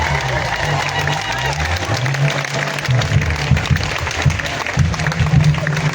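A church congregation at a special evening of praise applauding, a broad wash of clapping from many hands filling the room while a voice speaks over it.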